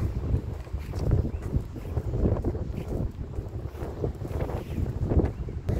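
Wind buffets a microphone outdoors near a house among trees, a steady low rumble with gusty surges throughout and no voices.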